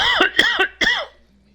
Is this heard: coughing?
yes